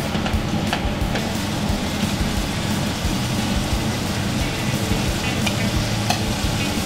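Butter melts in a hot pan with a loud, dense, continuous sizzle and crackle that runs unbroken, close and steady, with no voices over it.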